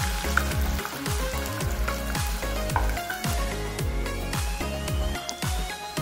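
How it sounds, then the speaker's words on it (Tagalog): Sliced tofu fries in a hot pan with a loud, constant sizzle and crackle, overlaid by a repeating low rhythmic pulse, and no talking. "hiniwa ko na yung yung tofu. Prito muna natin."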